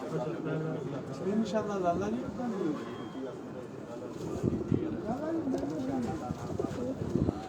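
Two pet pigeons, one white, coo in soft repeated rolling phrases nearby, while people talk over them throughout.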